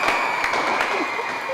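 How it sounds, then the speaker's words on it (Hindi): Studio audience applause on a comedy show, a dense continuous clapping wash under a sustained tone, fairly loud, with a voice faintly present. "तालियां"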